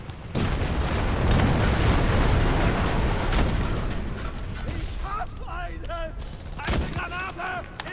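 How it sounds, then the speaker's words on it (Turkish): In the Enlisted war game, bombs burst close by in loud, heavy blasts over a dense roar of gunfire. The barrage then thins, and voices speak over it. "Bu yine bombalar patlıyor kafamdan."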